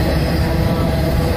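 A train rolls past close by near a railroad museum, a loud, steady rumble of rail cars with broadband roar and no talk over it.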